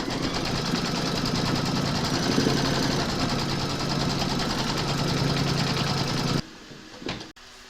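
An embroidery machine stitches quilting onto a bib with a dense, rapid, steady mechanical chatter that runs continuously before cutting off, followed by a few faint clicks.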